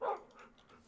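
A dog in the blocky survival game TerraFirmaCraft gives a single short bark or yip while being petted, fairly faint, followed by quiet.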